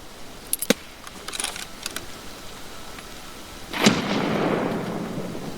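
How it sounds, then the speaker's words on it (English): A grenade in the shooter game Escape from Tarkov: a few sharp clicks and light clatter, then a loud booming blast around the four-second mark that trails off into a long rumbling decay. "I'm gonna go ahead and throw a nade just to see if I can spot where anyone else might be hiding"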